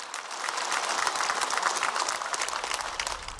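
Audience at a policy seminar lecture in Gwangju bursts into dense, steady applause, loud and close throughout the short stretch with no talking over it.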